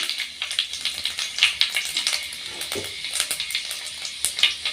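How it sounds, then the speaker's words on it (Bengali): Panch phoron spices frying in hot oil in a kadai, a continuous crackling sizzle with rapid popping spits, close and moderately loud. "তো পাঁচ ফোড়নটা একটু ভাজা হবে"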